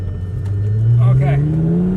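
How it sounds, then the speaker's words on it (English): A Lamborghini engine revving as first gear engages, a loud close rising growl that climbs steadily in pitch over a couple of seconds, with a voice faintly underneath. "That first gear engagement is a heck of a thing."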